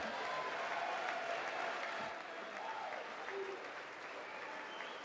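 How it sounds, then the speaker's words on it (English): Steady applause from Republican members in a legislative chamber during a State of the Union address, a continuous dense patter of clapping that holds evenly throughout without any talking. "Some Republicans standing and applauding while he calls Democrats crazy"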